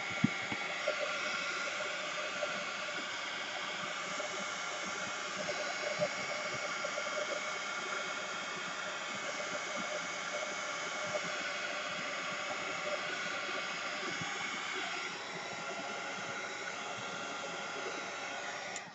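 A hair dryer blows on a piece of artwork to dry it, a continuous, fairly quiet whooshing whir that stays steady without a break for almost twenty seconds.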